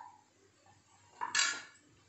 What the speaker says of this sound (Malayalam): എന്നിട്ട് ഒന്ന് ഇളക്കി കൊടുക്കാം.